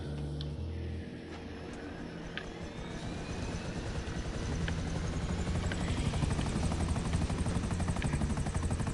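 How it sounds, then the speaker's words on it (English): Helicopter-like aircraft in the video game GTA, a loud continuous rotor thrum and engine whine that builds steadily as it spins up, with no speech. "let's try to actually get in the aircraft"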